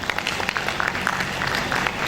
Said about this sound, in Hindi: सो रोहन जी की जोरदार ताली होनी चाहिए।